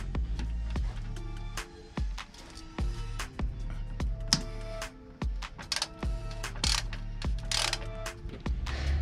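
A ratchet works loose 10 mm bolts on a Mazda MX5 while side skirts are fitted, giving repeated short clicking and ratcheting bursts with metallic knocks, close and fairly steady across the clip, with no talk.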